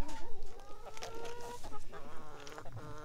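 Chickens clucking on a farm, several birds making close, steady, choppy clucks and squawks with rising and falling calls, with no talk.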